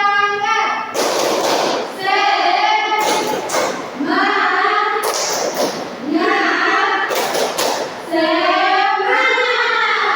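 Children at an elementary school clap together in a steady, driving rhythm while chanting loudly in unison, close by, in repeated bursts separated by short pauses.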